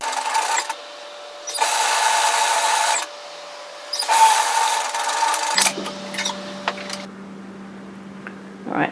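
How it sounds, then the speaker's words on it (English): An overlocker runs in bursts while finishing the long sleeve seam of a bomber-style varsity jacket, its fast stitching whir stopping and starting several times beside a steady electrical hum. "and then finish it with the overlocker"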